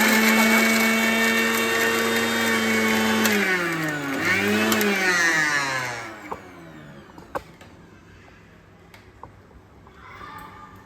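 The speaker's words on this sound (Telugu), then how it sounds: "ఉప్పు వేసేసుకొని మూత పెట్టి మెత్తగా గ్రైండ్ చేసేసుకుందాం" A mixer grinder whirs loudly while grinding curry leaves with rock salt, its pitch dipping and rising as the load shifts, then winding down into quiet with a few faint clicks.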